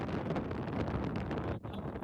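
Cold monsoon wind on Girnar mountain near Junagadh roars steadily across the microphone as a loud, constant rush, with a brief dip near the end.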